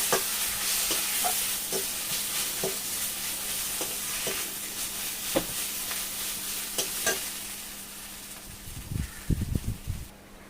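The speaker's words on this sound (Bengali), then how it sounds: "এবার লঙ্কা 1 চামচ দেবো। ভালোভাবে নেড়ে নেবো আমি।" Turmeric and chili powder are stirred in a pan of oil for a catfish curry, giving a soft continuous sizzle with regular scraping strokes of the spoon and some clattering near the end.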